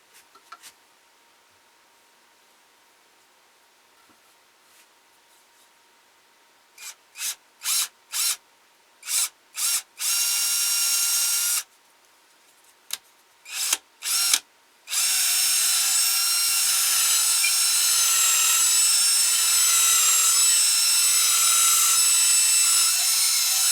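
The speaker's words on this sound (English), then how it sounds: "We're going to use a 1/4-inch drill bit." A power drill with a quarter-inch bit whirs in short bursts, then runs in longer sustained stretches, grinding steadily and loudly with no talking.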